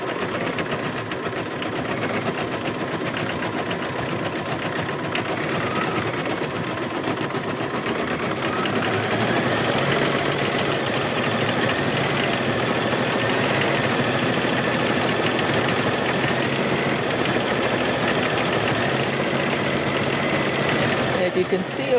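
Sewing machine running steadily to tack fabric down, a continuous mechanical whir and rapid needle rhythm that holds at an even level from start to finish with no pauses.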